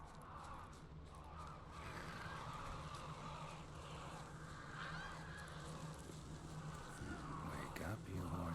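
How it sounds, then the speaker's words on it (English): Crows cawing in The Witcher 3 game world, faint harsh calls repeating over a quiet ambient background, with a voice talking at times. "All I gotta do is follow the cawing."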